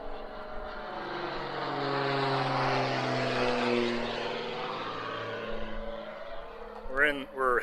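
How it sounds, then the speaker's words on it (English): Airplanes pass low overhead while coming in to land near the Rimrock Chief Black Otter Trail in Billings, Montana, a loud, sustained engine roar that swells and fades, with a brief burst of talk at the end. "all the airplanes are coming right over our heads to land."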